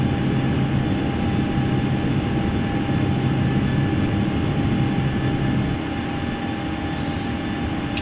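A Boeing 737-900ER taking off in Microsoft Flight Simulator, with a steady, heavy engine roar at constant full power that holds unbroken throughout and eases slightly near the end.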